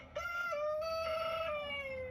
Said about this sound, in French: Un repas idéal pour ces poules que l'on retrouve aujourd'hui dans de nombreux jardins bruxellois.